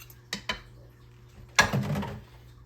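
Eggs being mixed by hand in a bowl for banana loaf batter, heard as two quick clinks of utensil on bowl followed by a burst of scraping and stirring, close and fairly quiet.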